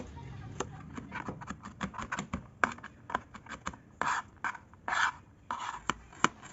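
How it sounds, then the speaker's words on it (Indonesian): Garlic finely minced with a knife on a board, a quick run of sharp, irregular taps close by, some louder strikes mixed with softer scraping chops. "Bawang putihnya kita cincang-cincang kecil."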